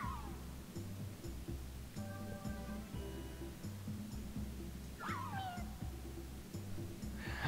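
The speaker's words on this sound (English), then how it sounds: "The little, like, taunting, like, cat noise he makes as he passes you every time" Mew's short taunting cat cry from the Pokemon Snap video game: several rising and falling mews, each brief and clear, over a steady low game soundtrack with rhythmic pulses.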